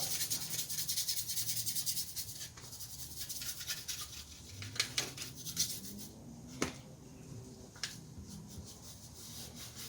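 A small brush rubs a little part clean with brisk, repeated scrubbing strokes, close and fairly quiet, alone with no talking.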